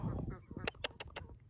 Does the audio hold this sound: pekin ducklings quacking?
yes